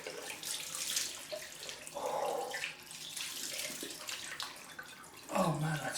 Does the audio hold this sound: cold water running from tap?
yes